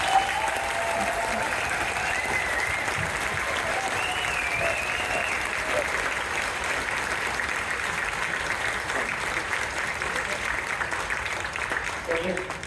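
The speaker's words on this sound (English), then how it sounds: "Can we give them a round of applause?" A crowd applauds the university marching band at its season-ending performance, a dense, steady wash of clapping that holds at full strength for the whole stretch with a few voices mixed in.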